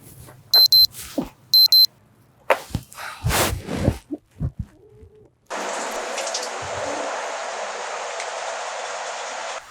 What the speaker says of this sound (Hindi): ये अलार्म तो बंद कर दिया करो ना